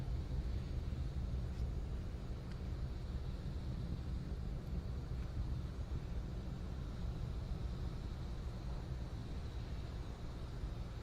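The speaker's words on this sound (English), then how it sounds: "First stage continues to burn under the power of 9 Merlin 1D engines." A steady, deep roar of a SpaceX Falcon 9's nine Merlin 1D first-stage engines during launch ascent rumbles continuously and evenly, dense in low tones, with no voices and no breaks.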